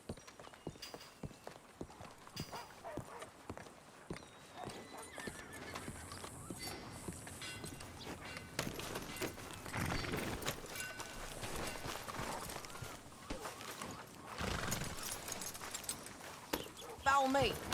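Horses trot and clip-clop over ground in the Western open-world game Red Dead Redemption 2, hoofbeats steady through the clip with a brief whinny, under game dialogue and ambient sound.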